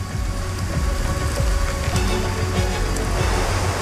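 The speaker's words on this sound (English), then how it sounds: "Wild monsoons lash the jungles of Madagascar." Heavy monsoon rain pours over the Madagascar jungle, a dense, loud and continuous hiss of drops striking leaves and ground with scattered sharper splats and no breaks.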